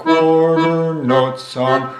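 An accordion plays a simple quarter-note tune in a beginner lesson, sustained reedy chords moving in steady one-beat steps, loud and close with no talking.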